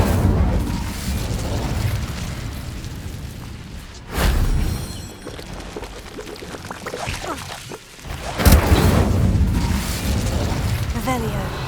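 The Incendio fire spell is cast in the video game Hogwarts Legacy, heard as two sharp bursting blasts amid a constant rumbling game background, with no talking.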